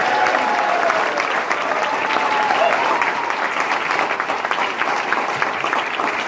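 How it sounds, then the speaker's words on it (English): Sustained audience applause fills a public lands event celebrating Rio Grande del Norte National Monument, a dense, loud wash of many hands clapping at once, steady and unbroken throughout. "How about a big round of applause for Rio Grande del Norte National Monument?"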